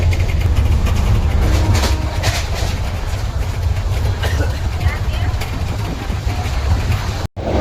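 Inside a moving train on the Konkan Railway, a loud continuous rumble of wheels and carriage noise fills the space, with a brief dropout near the end and passengers talking over it.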